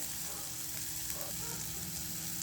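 Tomatoes sauté in a pan, a faint steady sizzle and light frying hiss lasting the whole stretch, with a bit of stirring.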